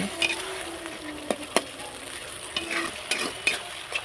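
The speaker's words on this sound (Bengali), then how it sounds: "ঢাকা দিয়ে দিয়ে মশলাটা ভালো করে আমি কষিয়ে নেব" Spice paste sizzles and fries in a pan while being stirred for a village-style curry of fish with potato and brinjal, with steady frying hiss and several sharp spatula scrapes and taps against the pan, no voices.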